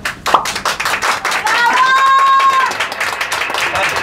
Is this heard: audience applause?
yes